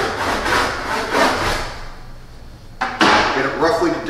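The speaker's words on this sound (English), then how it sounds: "I'm going to make a cut here, and this is not my final cut. This is just an incremental cut." Handsaw cutting into wood for router plane work, steady rasping back-and-forth strokes close by, pausing briefly before resuming.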